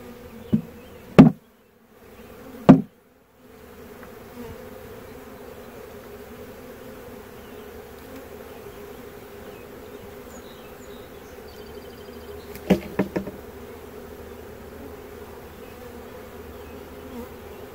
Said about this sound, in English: she's not in that little cluster of bees.